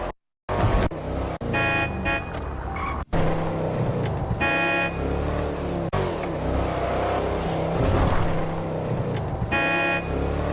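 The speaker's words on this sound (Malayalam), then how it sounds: "നേരെ വണ്ടി ഓടിച്ചു കേട്ടണേ" A car in a driving video game, its engine droning and revving loudly and continuously, pitch rising and falling with acceleration and brief horn toots, with almost no talk over it.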